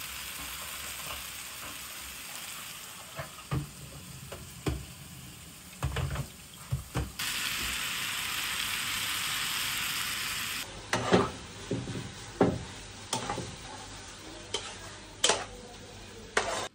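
Chicken with cabbage, onion and oyster sauce sizzles in a hot pan under a steady frying hiss, broken by repeated sharp scrapes and knocks of a spatula as the food is stirred, with no talking.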